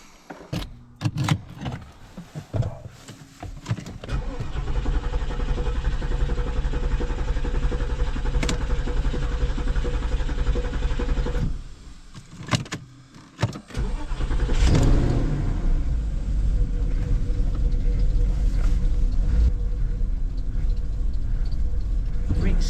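Porsche Cayenne engine, still running rough after a coolant leak repair, starts and idles loudly, then is shut off and restarted, with blips of revving, close up.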